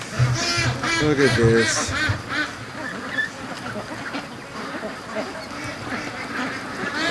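Free range ducks quacking in a muddy yard after rain, a burst of several nasal quacks up close early on, then scattered calls beneath a person talking.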